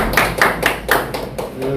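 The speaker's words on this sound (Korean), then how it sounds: "박수로 먼저 드리겠습니다." A small audience claps in welcome for a guest lecturer, with a handful of distinct, fairly close claps in an uneven rhythm over under two seconds.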